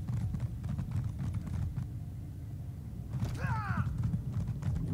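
Galloping horse hooves from a fast ride in Elder Scrolls Online, a steady low clip-clop rhythm with creaking gear and a brief whinny-like call midway, continuous and fairly close.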